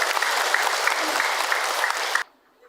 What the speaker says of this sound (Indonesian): Tepuk tangan buat Ibu Hajah Unayah.